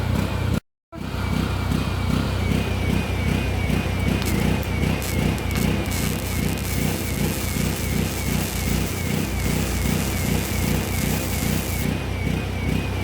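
A small 3 kg portable generator runs steadily as a power source for a welding test, a loud, continuous pulsing engine drone that holds even throughout apart from one brief dropout near the start.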